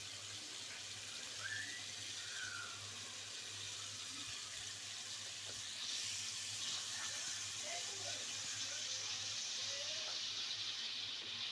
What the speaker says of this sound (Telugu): ఇలాగ సౌర్లో మనం ఫ్రై చేస్తే కొంచెం పన్నీరు బాగుంటుంది